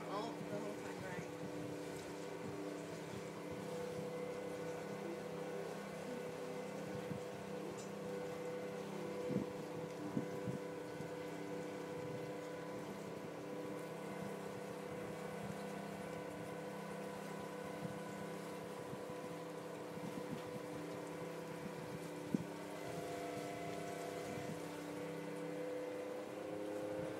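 A pontoon boat moves on water with a steady, low engine drone and a faint hum, heard continuously from on board, with light wind and occasional small knocks.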